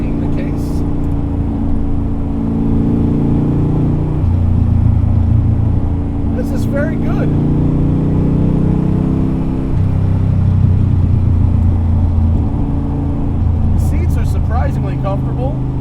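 A Superformance 1965 Shelby Daytona Coupe engine pulls steadily on a canyon drive, a loud, close drone whose pitch climbs and drops through several gear changes, with someone talking over it.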